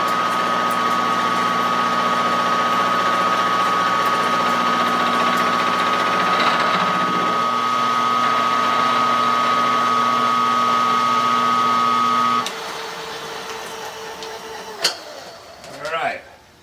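A small lathe hums steadily with a loud tonal whine and machine drone while machining a gear, then cuts out, leaving quieter handling noises and a couple of clanks.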